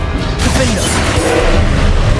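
A Confringo fire-blast spell is cast in a Hogwarts video game, a booming crash that fills the whole stretch with dense, loud rumbling impact noise and no speech over it.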